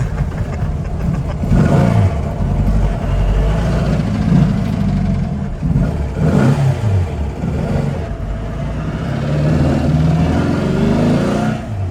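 A 1967 VW Bug race car engine with a muffler revs while driving, rising and falling in loud surges close to the microphone, with the engine droning steadily between revs.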